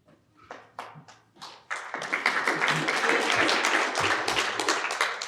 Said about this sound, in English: You guys are gonna be clapping a lot because we're switching off a lot